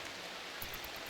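Rain falling in the colony-building video game Rimworld, played with a medieval setting: a steady, faint hiss of downpour with soft patters, continuous and low in the mix throughout.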